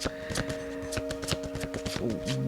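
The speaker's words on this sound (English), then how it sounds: "let me get these cards so I can shuffle them properly here." Tarot cards being shuffled by hand, a quick rapid run of papery riffles and taps over a faint steady tone, close and without talking.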